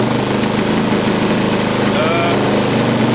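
Magnum XL 15cc gas engine on a Goldberg Ultimate 10-300 model biplane idling at minimum throttle, a steady close rumbling drone with fine rapid pulsing that holds for the whole span, with a voice talking over it.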